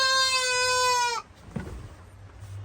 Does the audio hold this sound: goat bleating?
yes